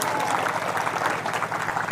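An audience at an Indonesian political talk or rally claps steadily in a brief, continuous burst of applause with no pause.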